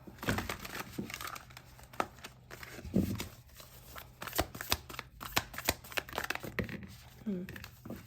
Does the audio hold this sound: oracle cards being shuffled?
yes